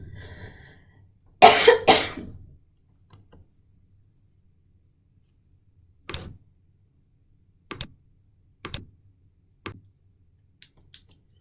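A person gives a sharp, loud double cough in a quiet room, followed by a few faint, scattered ticks and taps.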